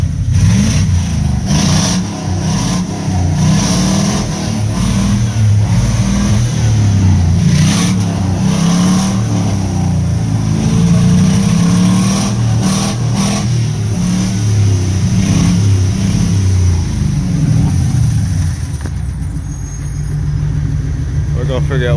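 A van engine running rich, with a steady loud idle rising into repeated revs close by, the motor sounding strong while someone talks over it throughout.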